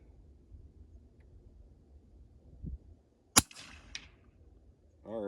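A subsonic 6.5 Creedmoor rifle shot at an outdoor range: a single sharp crack followed by a short echo, with a faint thump earlier and quiet ambient rumble around it.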